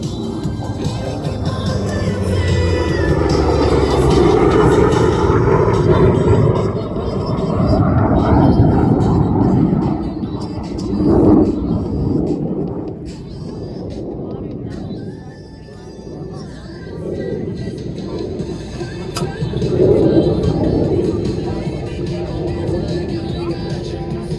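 An EA-18G Growler jet and an F8F Bearcat propeller fighter fly past at an airshow, a loud roaring pass that swells and fades, then rises again, with a voice talking over the engine noise.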